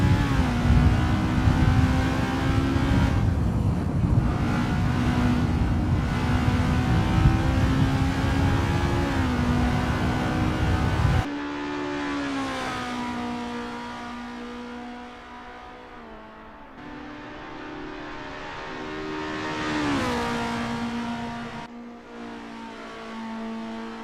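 A formula race car in a racing video game on a practice out lap at Zandvoort, its engine droning loud and steady with rising and falling revs through gear changes, no voices.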